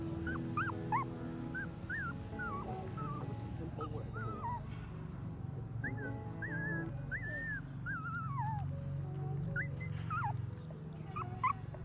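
Tiny newborn puppies waking in an old house, giving repeated thin whimpers and rising squeaky yips scattered throughout, close and soft over low background rumble and faint voices.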